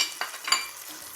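A spoon stirs white pepper, black pepper, salt and water in a pan for chicken manchurian, two quick scraping swishes with a faint sizzle, close and brief.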